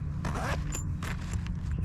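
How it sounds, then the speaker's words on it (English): A zipper on a pocket of a KastKing tackle bag is pulled open or shut in a quick, faint rasping run of under two seconds, set against a low steady background hum. "These all have zippers"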